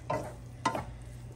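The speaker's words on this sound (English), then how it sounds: "And now I'm gonna fry this." Bacon and sausage cook in a pan over medium heat, a soft steady sizzle with two short scraping stirs near the start and middle.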